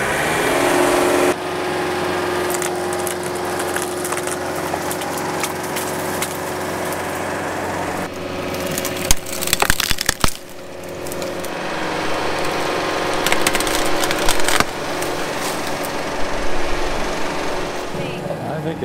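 A John Deere 4052R compact tractor drives a brush mulcher at full throttle into a tree, giving a loud, steady engine-and-cutter roar with a brief burst of splintering wood midway. Voices come through faintly under the din.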